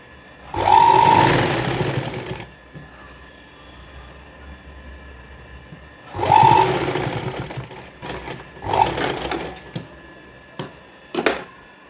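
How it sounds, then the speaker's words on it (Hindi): An electric sewing machine stitches a coat collar in two longer whirring runs and a few short bursts, close and fairly loud, with brief handling clicks and quiet gaps between. "इस पे हम सिलाई लगाते जाएंगे"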